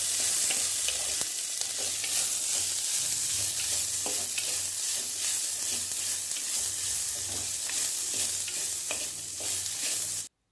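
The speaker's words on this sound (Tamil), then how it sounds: "நல்லா வெங்காயம் பொன்னிறமாகிற வரைக்கும் வதக்குவோம்." Onions with curry leaves sizzle steadily in a hot pan for a Tamil greens stir-fry, with a continuous frying hiss and occasional scrape of stirring, no voices over it.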